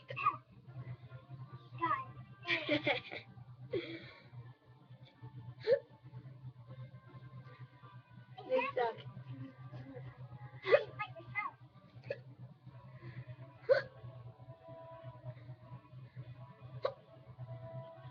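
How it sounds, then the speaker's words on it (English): A person with a bad case of hiccups gives sharp, repeated hiccups at irregular intervals, close to the microphone, with the speaker talking between them. "today I have a serious case of hiccups"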